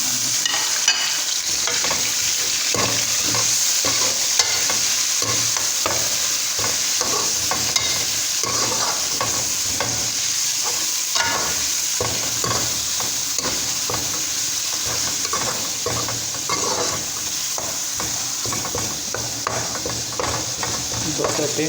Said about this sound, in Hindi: दो से तीन मिनट तक कीमा हम फ्राई करेंगे